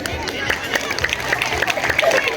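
Audience clapping at a national counseling month event at a primary school, scattered rhythmic claps under a speaking voice and general hall chatter.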